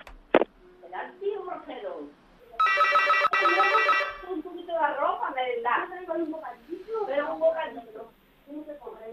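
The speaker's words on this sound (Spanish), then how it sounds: "estoy llamando al portero automático y la suena en su casa" A door intercom rings as a loud electronic buzz lasting about a second and a half after a button press, with people talking before and after it.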